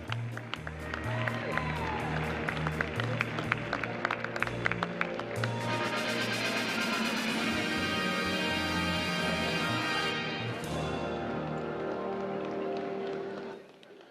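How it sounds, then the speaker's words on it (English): Audience applause rises in an indoor coliseum arena at a horse show championship, a broad wash of clapping swelling midway over background music and crowd noise, then cutting off. "would you send them out with a championship round of applause?"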